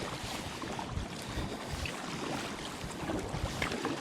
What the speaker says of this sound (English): I'm gonna paddle straight into the sun to South Brother Island